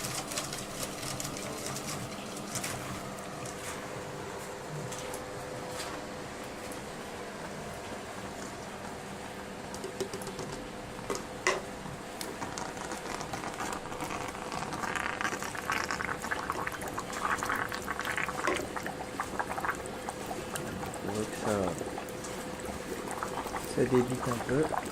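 An HHO dry-cell electrolyser rated at 12 litres per minute, with a cooling setup, bubbles and fizzes continuously as gas flows through it. The churning liquid sound stays steady throughout, with a voice talking over it.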